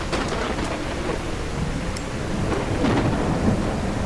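Thunder rumbles through steady heavy rain in a Fearful Symmetry game greenhouse level, a continuous storm wash with low rolling booms close by and no voices.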